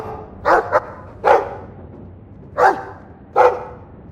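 A dog barks in the Dragon Age II video game, four short sharp barks with the first one doubled, spaced apart over quiet ambience.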